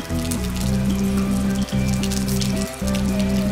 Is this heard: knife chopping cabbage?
no